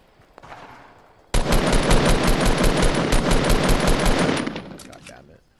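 Sustained rapid automatic gunfire in the video game Fortnite, a loud close burst of evenly spaced shots lasting about three seconds after a quieter lead-in, then cutting off.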